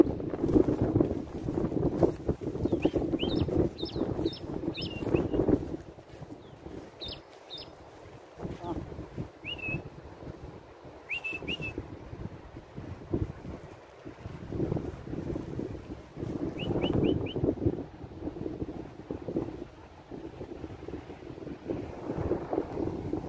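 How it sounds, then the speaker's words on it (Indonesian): Strong coastal wind gusts buffet the microphone in rumbling bursts, with short high chirps of a Javan prinia and a few voices breaking through at intervals. "angin di sekitaran dekat pantai ini memang kencang sekali"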